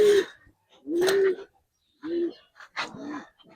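Several Giribaz pigeons coo in short separate phrases, four low throaty bursts with pauses between them, close and fairly clear, with no talk over them.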